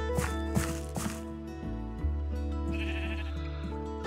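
Sheep in a video game bleat several times in quick succession over a layered, tonal game soundtrack, the cries short and clear, with no talking.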